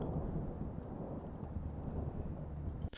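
Deep, continuous rumbling thunder rolls steadily and fairly loud, ending in a sharper crack near the end.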